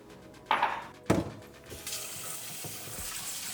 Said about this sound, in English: Pour water in and wash rice gently.